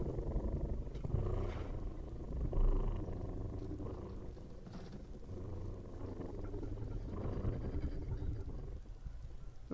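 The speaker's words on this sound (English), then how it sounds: "It's a purr." A Torvo dinosaur in the Path of Titans video game gives a low, rumbling purr, a continuous throaty growl with soft swells over several seconds, close and steady.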